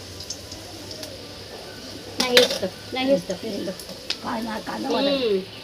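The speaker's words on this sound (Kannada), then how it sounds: "ಕಾದಿರೋ ಎಣ್ಣೆಗೆ ಒಂದೊಂದೇ ಉಂಡೆನ ಬಿಡ್ತಾ ಇದ್ದಾರೆ" Balls of Bengal gram (chana dal) dough dropped one at a time into hot oil, giving a soft crackling sizzle that swells as each one goes in, with clinks of utensils and people speaking nearby.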